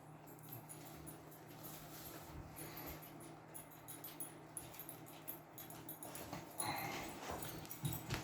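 Puppies whimper and yip faintly in a room, soft intermittent whines over a low background hum, with a slightly louder cluster of sounds near the end.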